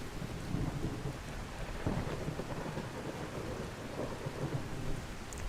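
Rumbling thunder rolls beneath steady, dense rain in a Skyrim game world, a continuous low roar with heavier swells throughout and no voices.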